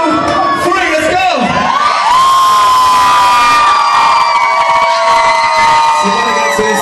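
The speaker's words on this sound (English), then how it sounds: "make as much noise and scream" A large crowd at a live club concert in Civita Castellana screams and cheers continuously, a dense loud roar with high-pitched shrieks and whoops sustained for several seconds.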